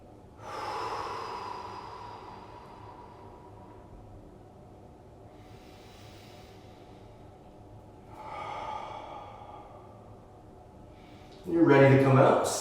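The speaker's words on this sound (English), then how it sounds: "Take 2 more big breaths here." Deep, slow breaths taken during a spine stretch, several long audible inhales and exhales spaced seconds apart, quiet and close, with a louder sharp breath at the very end.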